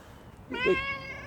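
A collared cat in a St. Louis cemetery gives a single clear, drawn-out meow up close against quiet outdoor background noise.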